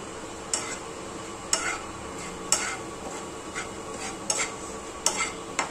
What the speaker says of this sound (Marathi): तोपर्यंत इकडं हे बेसन भाजून घेते मी